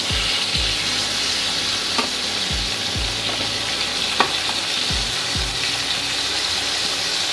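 Rohu fish pieces frying in hot oil give a steady, dense sizzle that fills the whole stretch, with a few low knocks and scrapes from turning the pieces.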